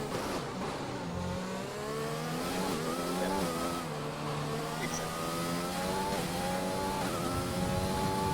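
Several race cars in an F1 racing video game at the French Grand Prix, engines whining and shifting pitch as they accelerate and pass, a steady continuous roar with rising and falling revs throughout, no talk.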